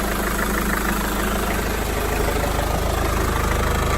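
BMW 320d E46 diesel engine running steadily as it warms up for a thermostat change, a loud, continuous rumbling drone with a clattery texture and no voices.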